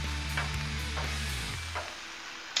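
Bacon and burgers sizzle on a flat-top Blackstone griddle: a steady, soft hiss over a low hum, with a few faint scrapes and a brief sharp click near the end.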